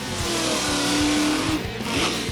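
American muscle cars roar at a drag racing track in Michigan, a loud engine revving and rising in pitch with race car rumble, brief and close, no speech.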